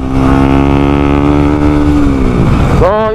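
A 2021 Yamaha Sniper 155 motorcycle with an R15 engine revs loudly up close in a steady high drone, then the pitch drops quickly near the end as the throttle is released.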